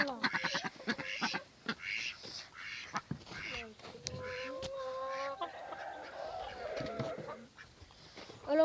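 Ducks quack and call around their pond in a backyard poultry setup, a burst of honks and quacks of varied pitch, fairly close, with sounds of other fowl nearby.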